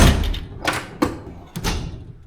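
A metal toolbox drawer slides out with a scraping rumble, followed by a couple of thuds and clatters close by.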